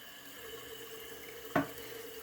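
Toilet bowl refilling with water just after the fill level was adjusted, a steady soft running-water hiss with one brief louder splash or clunk partway through.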